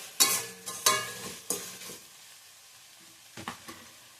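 Tomato frying in a pan for idli manchurian, a few loud scraping stirs with a spatula over a quiet sizzle, then a pause before two more strokes.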